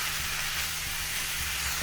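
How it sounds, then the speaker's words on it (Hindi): Potato filling for aloo samosas frying in a pan, a steady close hiss and sizzle that stays even and unbroken throughout, with no voices. "इस तरह से हम इसे अच्छे से भून लेंगे।"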